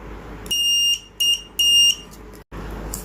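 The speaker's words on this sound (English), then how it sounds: "Checking the continuity of wire." A continuity tester module sounds three sharp, high electronic beeps in quick succession while checking a wire, each tone short and piercing against a quiet background.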